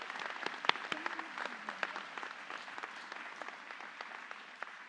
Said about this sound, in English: And you can applaud for that.